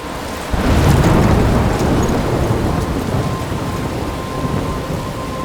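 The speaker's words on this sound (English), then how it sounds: "I'm trapped in a storm?" A thunderstorm with rain in the video game Life is Strange: a deep thunder rumble rolls in and slowly fades over constant heavy rain, loud and close, with no speech.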